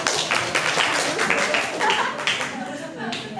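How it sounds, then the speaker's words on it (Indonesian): A classroom of Indonesian high school students from class X.10 breaks into applause, with a dense run of sharp, overlapping hand claps that carries on steadily for a few seconds, loud and close, and voices mix in underneath. "Oke, tepuk tangan dulu."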